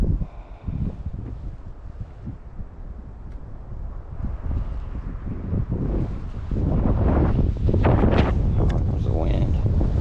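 Wind gusting across open water on a spring fishing outing, a steady rushing roar buffeting the microphone that builds louder toward the end, with no clear speech.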